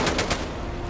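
Gunfire in the World War II shooter Medal of Honor: Above and Beyond, with three sharp, loud shots in quick succession followed by a ringing, noisy tail, and no voices.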